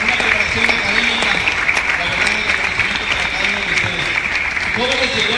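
Students applaud school directors at an interuniversity sports games ceremony, a loud, sustained crowd clapping heard close up over a large space, with voices mixed in beneath the ovation.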